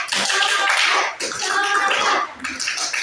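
A group of students in a classroom clap together in loud, dense bursts, with short pauses between rounds.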